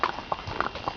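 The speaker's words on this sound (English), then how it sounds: "And there's a horse behind us." A horse's hooves clip-clop on a road just behind, a steady run of quick moderate hoofbeats heard close by outdoors.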